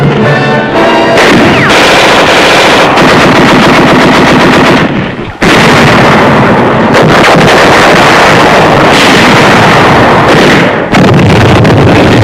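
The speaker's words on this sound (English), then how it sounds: "After thousands of rounds of machine gun," Loud, sustained machine gun fire rattles continuously in WWII Pacific combat footage from the Los Negros landing by the 1st Cavalry Division, with heavy bursts and a brief pause midway.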